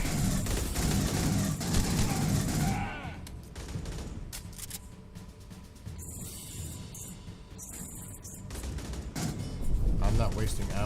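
Video game gunfire rattles through a firefight, with bursts of shots over dense battle noise and shouted voices, loudest at the start and end and thinner in the middle.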